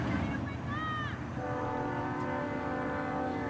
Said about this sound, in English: all you can hear is a train horn